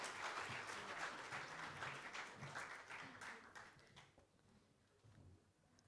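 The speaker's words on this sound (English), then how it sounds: "so big round of applause for that." A faint audience applauds a young orator at a commemoration of the International Day for the Elimination of Racial Discrimination. The clapping is brisk at first, then thins and fades out over the last couple of seconds.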